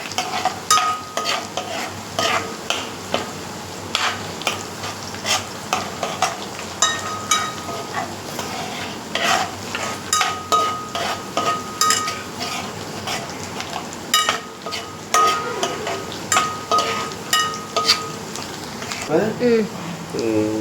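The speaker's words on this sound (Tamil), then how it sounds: "இந்த பூண்டு பார்த்தீங்கன்னா நல்லா வதங்கணும் பொன்னிறமாக வதங்கணுமா" Garlic fries in a pan until golden, with a steady sizzle under repeated scraping and clinking stirs of a spoon against the pan, while someone talks throughout.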